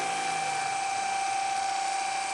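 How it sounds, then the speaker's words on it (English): A Theragun massage gun on its lowest setting gives a steady, high-pitched motorized whir with a constant buzzing tone, close and continuous throughout, no voices. "this is on the lowest setting for the Theragun"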